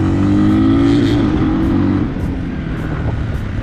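Motor 1 Trail 250 motorcycle pulling away under hard acceleration, its engine note rising loud and close for about two seconds before settling into a steady, lower drone.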